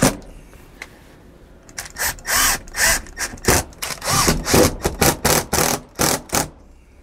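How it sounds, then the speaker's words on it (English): Short repeated bursts from a cordless drill driving flat painted Phillips-head screws while fitting a MaxxFan Deluxe roof vent on a 2021 Sunset Park Sunray travel trailer, close and loud, with pauses between each run. "put it in place, and then we can install our four screws"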